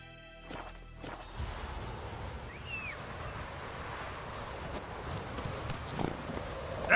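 The horse Roach from the video game The Witcher 3 moves with soft, steady hoofbeats under a dense ambient wash of wind and outdoor noise, the hooves moderately distant and blending into the background, with no talk.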